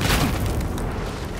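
A grenade goes off in Battlefield 4 with a loud, close boom, and its dense rumble fills the whole short moment.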